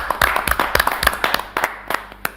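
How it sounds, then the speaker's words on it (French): A small crowd at an awards ceremony claps briefly, with scattered, uneven hand claps close by and fading out within a couple of seconds, no talk over it. "applaudissements."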